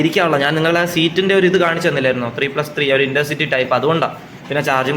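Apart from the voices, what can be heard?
No distinct noise like a dog, phone or traffic.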